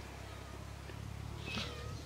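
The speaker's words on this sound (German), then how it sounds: "Oh, und eine Katze auch." A pet cat in a garden gives one faint, short meow close by, set against quiet outdoor background noise.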